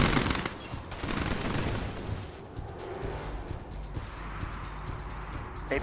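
Dense machine-gun and cannon fire in Command & Conquer 3: Tiberium Wars, rattling in rapid continuous bursts with mechanical clatter, loud and steady throughout with no talk over it.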